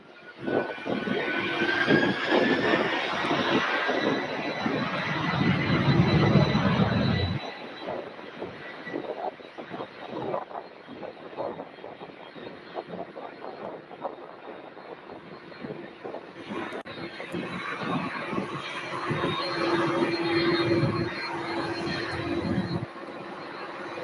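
A 23-year-old UPS aircraft, N332UP, spools its engines up for takeoff, building from a loud, rising roar into a sustained rumble that dips and swells again as the thrust carries on.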